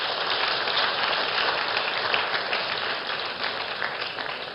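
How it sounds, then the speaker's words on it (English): An audience at a Nigerian gas conference gives a round of applause, a close, busy wash of clapping that stays strong before easing slightly toward the end. "Can you please give him another round of applause?"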